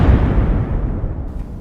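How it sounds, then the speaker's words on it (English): A loud, booming explosion in the style of a Michael Bay action film fills the moment with a dense, rumbling roar that slowly fades, heard alone without talk. "Always the explosions."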